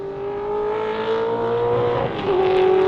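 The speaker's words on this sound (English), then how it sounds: "The Barracuda does like to pop the flames on the gear changes, the down changes" A Barracuda race car in Australian TransAm racing drones steadily at high revs, its pitch dropping sharply on a gear change near the end before climbing again.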